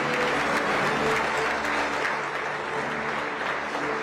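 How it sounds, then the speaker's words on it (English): A large audience at an award ceremony keeps up sustained applause, a dense, steady roar of many hands clapping at fairly loud level with no break across four seconds. "I think the applause should continue, because here's a living legend"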